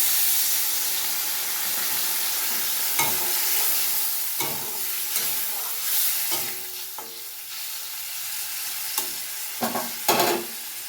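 A paste of mustard and green chili fries in a pan with a steady sizzle. A utensil scrapes and stirs it in several distinct strokes, louder toward the end.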